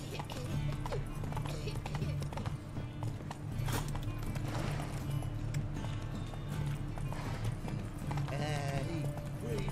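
Roach, a horse in The Witcher 3, trots along with a steady clip-clop of hooves under game music and effects, while a person talks over it.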